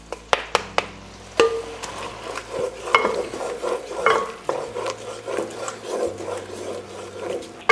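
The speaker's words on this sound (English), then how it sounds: "We're gonna go ahead and dump our onions in." Onions get dumped into a hot pan and stirred as they fry, with scraping and clinking of a utensil against the pan over a soft sizzle, in irregular bursts.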